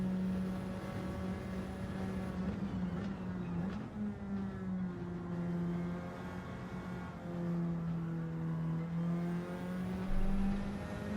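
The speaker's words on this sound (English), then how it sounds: "I can hear people squealing as they're coming through." Race cars roar around the track in a racing video game league, a continuous loud engine whine rising and falling in pitch over eleven seconds, with no talk.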